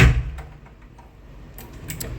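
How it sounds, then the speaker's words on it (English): A hotel room door in Bali swings shut with a soft thud, then a few light metallic clicks of the lock follow a moment later, close by in a quiet room. "Let's shut the door and lock it."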